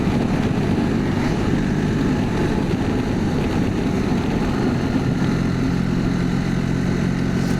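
BMW R1300 RT motorcycle engine as the rider rolls off the throttle, a steady low droning hum with wind noise, easing slightly as speed drops, fairly loud and without talk.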